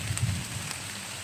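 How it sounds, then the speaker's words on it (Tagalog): Heavy rain falls steadily as a dense, even hiss with faint scattered drop taps, continuous and moderately quiet, outdoors under a tarp shelter. "napakalakas talaga ng ulan"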